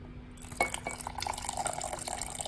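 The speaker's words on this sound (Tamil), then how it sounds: "அதனால் தேவையான அளவு தண்ணி ஊற்ற" Water splashes and trickles into a pot while making drumstick leaf rice porridge, a faint wet pouring with a few clinks at the start, fairly close.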